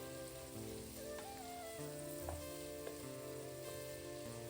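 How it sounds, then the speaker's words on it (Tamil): Chopped onions soften in a pan for home-style prawn biryani, a quiet continuous sizzle with occasional stirring scrapes and small ticks throughout. "வெங்காயம் வெந்த பிறகு நீங்கள் வதக்குனீங்கன்னா சீக்கிரம் வதங்கி வந்துடும்."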